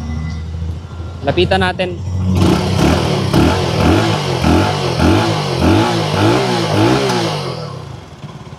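A FEKON 3GP 300cc single-cylinder four-stroke sportbike engine runs close by, blipped in a steady series of rising and falling revs with a short spoken phrase just before it.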